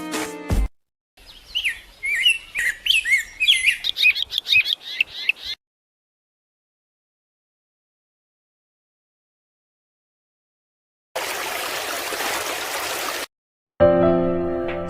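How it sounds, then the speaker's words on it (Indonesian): Songbirds chirp in quick, bright bursts over a few seconds, followed by a long silence, a brief stretch of steady rushing noise and a final short burst of sound. "ketika burung berkicau mereka aman"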